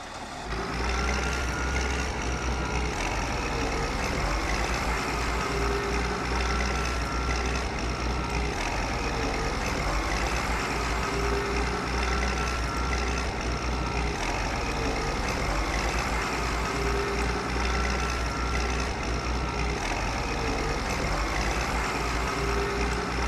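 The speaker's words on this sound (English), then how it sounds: "The vehicle sounds are good until it starts looping over and over" Farm vehicle sound from the Farm Expert 2017 game: a steady, droning truck-like engine hum with faint repeating beeps, running continuously and looping without change, no talk.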